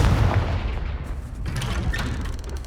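A Confringo fire blast spell in Hogwarts Legacy bursts with a heavy, gunfire-like boom, followed by a few scattered crackling impacts and low rumbling over a couple of seconds.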